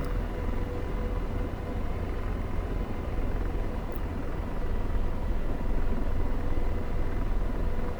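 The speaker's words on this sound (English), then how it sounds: "pick the helicopter up." Steady, loud engine drone with deep rumble from an AH-64D helicopter lifting off in the DCS flight simulator, unbroken for the whole stretch and swelling slightly near the end.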